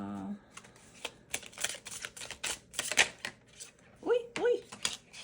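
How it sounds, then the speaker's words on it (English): Thick plastic tarot cards being shuffled by hand, a run of short crisp riffling clicks and slaps spread across the clip, close and fairly soft, with a voice briefly sounding in between. "these shuffle weird because they're like a thick plastic"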